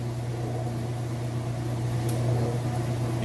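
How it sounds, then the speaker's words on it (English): Kenmore washing machine running at full speed on its spin cycle, giving a steady, even low hum with constant mechanical whir throughout, no talking. "we're back full speed on the spin cycle"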